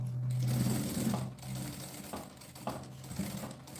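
A sewing machine runs a long-stitch safety seam along the edge of batting fabric for a school bag, a quiet, close, steady mechanical whir that starts and stops, with no talking.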